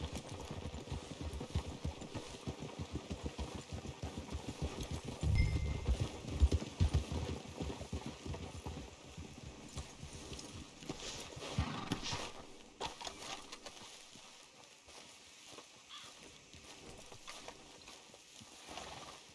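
Steady clip-clop of horse hooves at a trotting rhythm in the video game Red Dead Redemption 2, fairly close, slowing and fading toward the end with a quieter stretch.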